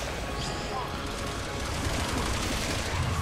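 Gunfire from Ada Wong in Resident Evil 6 crackles as a dense, continuous burst of shots layered in loud game noise, steady for the whole few seconds without a break.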